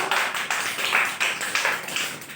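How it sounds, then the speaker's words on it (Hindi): Slow, steady hand claps from a group during a children's movement activity, several soft claps spaced about half a second apart, fairly close, with no talking. "अब एक साथ तो कैसे धीरे धीरे ताली बजाओ"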